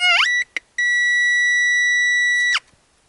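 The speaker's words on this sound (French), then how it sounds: "Apparemment, la roue en alu qui sonne aiguë." A metal detector passed over an aluminium wheel gives a loud, steady high-pitched electronic tone, broken by two short blips near the start, then held for about two seconds before it cuts off.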